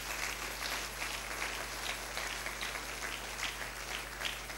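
Congregation applauding during a French-language church sermon, a steady, fairly soft wash of many hands clapping for a few seconds with a low hum underneath.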